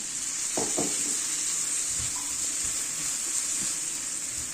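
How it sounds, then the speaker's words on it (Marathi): Water is poured onto masala sizzling in a pan for sprouted moong bhaji, setting off a loud, steady hiss with brief splashy bursts near the start. No voices. "आता आपण यात आहे ना थोडंसं पाणी टाकूया"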